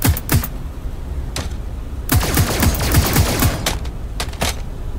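Rapid dual-gun gunfire in FNAF VR 2, sharp shots in quick irregular bursts and clusters ringing loud and close throughout, with no talking.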